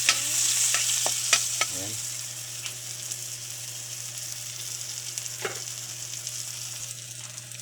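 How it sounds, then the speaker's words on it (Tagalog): Garlic and onion sauté in a hot pan with steady frying sizzle, and a spoon scrapes and stirs through them in a few quick strokes early on. A brief word is spoken over the cooking. "Sabay na natin yung ihulog ng ating mga ricado, ng ating mga bawang sibuyas."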